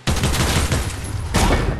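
Loud, rapid video game gunfire bursts out in a dense, continuous volley, with a brief dip before a second burst near the end and no talking.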